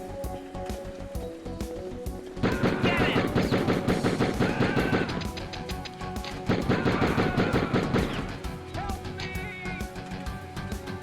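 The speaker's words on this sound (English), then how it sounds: "Just run towards the man shooting the terrorists." Gunfire in the video game Die Hard Trilogy, set in an airport terminal: rapid machine-gun bursts in two long loud stretches over a steady game backdrop, with a voice speaking in between.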